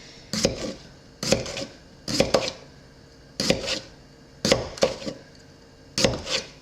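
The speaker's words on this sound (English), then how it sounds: "So I am just gonna slice these up and throw them in a bowl over here that I have with the jalapenos" A knife slices cucumbers on a cutting board for sandwich pickles, giving six evenly spaced bursts of quick double or triple cuts, each a crisp knock on the board, close and without talk.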